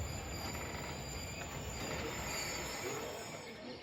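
The Tezgam Express pulls out of a station with a steady, moderately loud rumble of wheels and rolling rail noise, with no talking over it.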